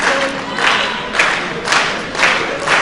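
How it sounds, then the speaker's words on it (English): A wrestling crowd at a DGUSA independent show chants a wrestler's name in rhythmic, surging waves, loud and roomy, each call swelling roughly every half second with no commentary over it. "He's got an entire crowd here chanting his name and getting behind him."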